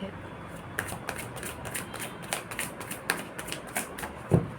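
Tarot cards are shuffled in short, crisp bursts of riffling and tapping that repeat in a loose rhythm, close and moderately loud, with a soft voice and a dull knock at the end.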